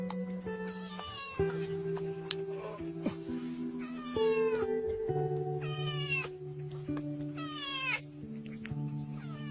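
A small kitten rescued after being stuck badly in mud meows repeatedly, loud rising and falling cries in a steady series, close up, over a held background tone.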